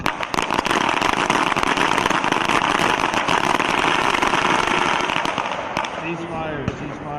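Rapid, dense volleys of pistol shots from a team of shooters at an Army small arms team pistol match, crackling continuously for several seconds at close range before tapering off, with a voice briefly heard near the end.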